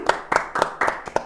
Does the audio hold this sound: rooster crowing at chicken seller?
no